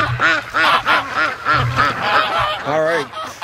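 Ducks on a lake, with Muscovy ducks among them, quack loudly and rapidly up close in repeated rhythmic bursts, with some honking mixed in.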